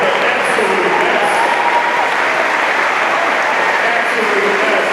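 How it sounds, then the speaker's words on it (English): A large audience at a freshmen orientation closing ceremony claps in steady, continuous applause for the advisors, a dense wash of hands that holds at even loudness throughout, with faint voices mixed in. "give your advisors a big round of applause"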